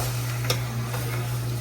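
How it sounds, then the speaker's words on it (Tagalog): Tinola chicken soup is stirred in a pot over a steady hum and soft sizzle, with one faint tick of the utensil against the pot. "Haluin lang natin siya."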